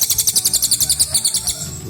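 A white-rumped shama, or murai batu, chirps in a quick run of bright, evenly spaced high notes, close and clear, repeating about a dozen times in under two seconds.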